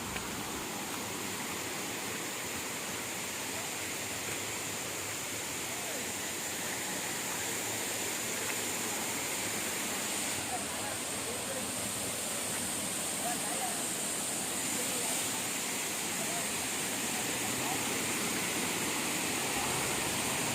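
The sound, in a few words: Paalapattu waterfall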